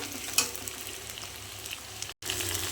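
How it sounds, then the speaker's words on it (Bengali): Steady crackling sizzle of potatoes frying in hot oil, close and continuous, with a brief clatter near the start and a short cut near the end. "এখন আমি দিয়ে দিচ্ছি আলুগুলো। আলুটা একটু ভাজা হয়ে যাবে।"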